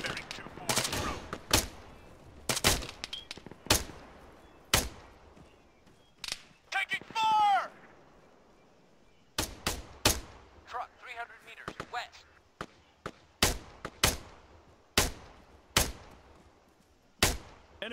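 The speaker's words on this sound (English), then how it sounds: "Enemy fire!" Gunfire in the military shooter ArmA 3: repeated sharp single shots and short bursts crack out at irregular intervals, some loud and close, others fainter, with radio-style voices talking in between.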